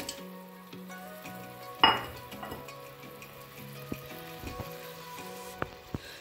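Aloo matar pulao with potatoes, peas and tomatoes sizzles in a pot as a spoon stirs it, a steady close frying hiss broken by scraping and clinks of metal against the pot.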